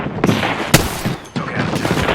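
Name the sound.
gunfire in Apex Legends video game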